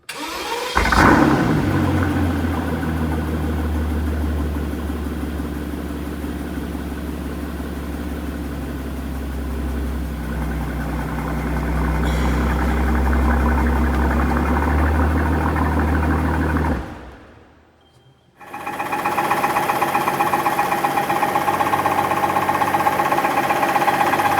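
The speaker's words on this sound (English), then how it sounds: "once the exhaust was fitted and I fired up this engine for the first time" A rebuilt Mercedes S65 AMG V12 fires up with a sharp crank and settles into a loud, deep idle with a fitted exhaust. After a brief drop-out, the idle resumes steadily with no talking.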